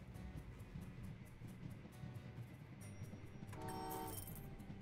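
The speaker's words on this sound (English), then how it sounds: "That seemed like a pretty fast train." A train rolls along the rails in the Train Valley 2 puzzle game, a steady rumbling run with game music over it and a brief tonal horn-like toot near the end.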